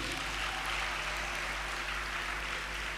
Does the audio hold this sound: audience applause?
yes